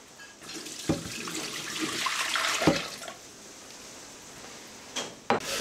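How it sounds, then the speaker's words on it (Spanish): Soaking water pours off dried chickpeas in a kitchen as a steady, splashy stream, followed by a few faint clunks and drips once the pouring stops. "Entonces vamos a botar esta agua del garbanzo"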